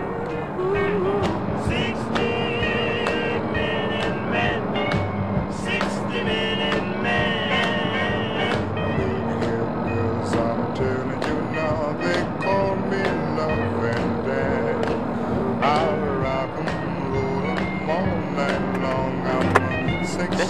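A drivable car from a Fallout 4 mod rolls across the game's wasteland, a continuous engine drone with rattling, clunky bumps and occasional knocks, steady and moderately loud, with someone talking over it.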